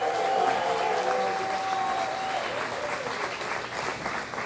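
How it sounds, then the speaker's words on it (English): A comedy club audience in Branford, Connecticut claps and cheers for a comedian taking the stage, with loud, sustained applause that fills the room, a whistle early on, and crowd noise that slowly eases. "Come on, clap it up."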